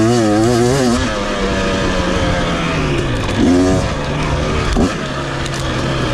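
A 2023 KTM 250 XC two-stroke dirt bike revving hard while being ridden off-road, its engine note rising and falling through throttle blips, loud and close for the whole stretch.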